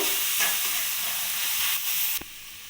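Cauliflower filling for paratha, seasoned with ground black pepper, coriander and cumin, sizzles steadily in a hot pan while being stirred, with a few scraping knocks near the end.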